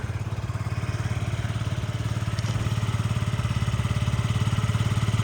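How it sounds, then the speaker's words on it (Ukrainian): Engine of a Yamaha Jog SA39 ZR fuel-injected scooter running steadily at idle, a close, even low putter with a constant rapid pulse and no voices. "Ідеальна чиста робота двигуна."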